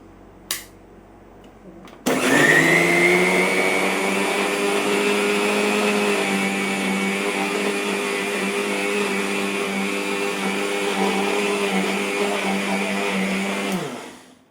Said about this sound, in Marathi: आता हे मी मिक्सर लावून घेणार आहे